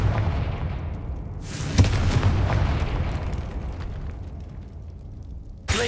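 In the video game Hogwarts Legacy, a Confringo fire spell goes off as a loud explosion. A sharp burst is followed by a rumbling boom that fades out, and a second crack comes at the very end.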